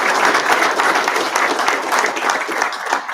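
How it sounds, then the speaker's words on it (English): An audience at a wildlife commission meeting applauds a scholarship winner, dense steady clapping from many hands filling the room without pause. "So if I can get a round of applause for Dawson."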